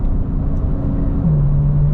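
Porsche 992 Turbo S with an IP exhaust and tune, a close, loud, deep engine drone that drops into a steady lower tone partway through, running alone without talk.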